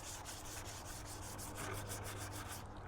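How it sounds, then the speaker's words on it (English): Light sanding of a primer coat during a spray-gun paint job, a steady close scratchy rasp with quick regular back-and-forth strokes that runs throughout and stops just before the end. "So just lightly sanding this primer surface"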